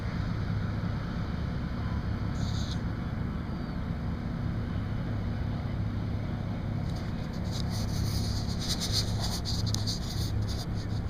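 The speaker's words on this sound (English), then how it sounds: "there's another couple boats tearing out." Several boats tear out across the water at Seward, a steady low engine rumble mixed with gusty wind buffeting the microphone, continuous and fairly distant with no talking.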